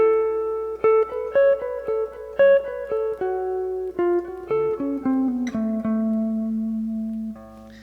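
A lead guitar phrase from a solo, in A and starting high on the neck, is played alone as a clean run of single plucked notes and slides at a steady, moderately loud level, with no voices.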